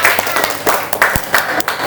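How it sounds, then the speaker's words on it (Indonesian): Schoolchildren in a classroom clap for a group about to present, a loose, uneven patter of hands that rises and dips in bursts, close by, with a teacher's voice mixed in. "Tepuk tangan"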